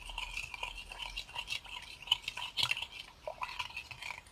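Cookie mixture being stirred in a bowl, with faint scraping and soft clinking of a utensil against the bowl in a quiet, irregular rhythm.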